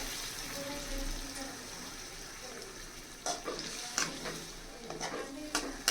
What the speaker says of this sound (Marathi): तर यामध्ये आपण आता थोडं पाणी ॲड करणार आहोत.